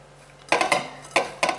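Asian coleslaw vegetables being tossed in a bowl, with three sharp clattering bursts of utensils scraping and knocking against the dish in a quiet kitchen.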